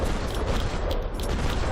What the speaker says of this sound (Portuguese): já disparei 1000 tiros